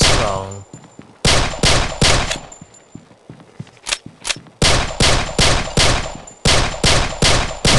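Gunfire from a weapon in the video game Pixel Gun 3D: loud bursts of rapid shots with short gaps between them, joined by a few isolated single shots and faint metallic pings.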